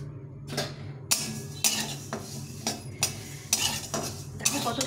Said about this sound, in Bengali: এখন এতে তিলটা দিয়ে দেবো, তিলটা ভেজে নেব।